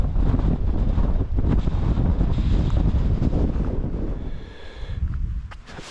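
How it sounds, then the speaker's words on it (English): Strong wind roars across the microphone on a hill walk up Wansfell in Cumbria, a loud continuous buffeting that dips briefly near the end before gusting back, with no one speaking. "it's good to get out of that wind"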